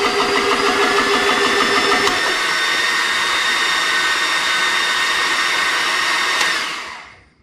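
A battery-powered air pump running on an Ego 56V battery to fill a Spare Air SCUBA tank. It gives a loud, steady, high-pitched whine with a faster fluttering rhythm for the first two seconds, then runs evenly and cuts off near the end.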